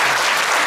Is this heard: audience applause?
yes